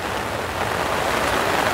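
Steady rain patters down in a garden, a dense, even hiss of drops on surfaces with no voices.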